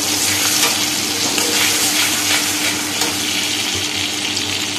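Mustard paste and yogurt masala fry in a pan over a tempering of nigella seeds and green chilies for a hilsa curry. A steady, loud, close sizzle runs throughout, with stirring scrapes and no voices.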